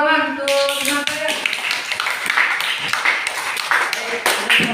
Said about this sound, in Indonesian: Beri tepuk tangan untuk teman saya.